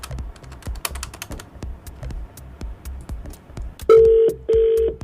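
A telephone being dialed for a prank call, with rapid keypad taps and clicks followed by two loud, steady ringback tones, close and clear with no talking.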